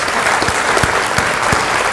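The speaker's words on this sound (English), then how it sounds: "let's take a moment and recognize them and give them a round of applause." A dense burst of clapping from a crowd at a leadership luncheon, steady and fairly loud throughout, with no voices standing out.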